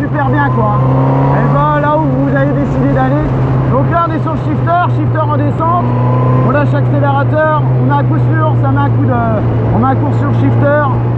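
A Honda CB1000R neo-retro motorcycle engine hums in a loud, steady drone while being ridden, with someone talking over it throughout.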